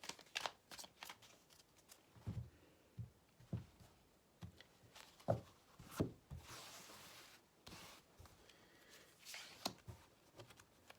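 Tarot cards are shuffled for a reading, giving soft, irregular riffles, slides and taps up close, quiet and scattered, with no voice.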